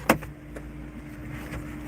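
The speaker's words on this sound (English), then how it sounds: "go ahead and put the top up so you can see that that works" Soft top on a 2004 Honda S2000 convertible being raised, a short sharp click followed by a quiet electric motor hum and faint mechanical whir, close and brief.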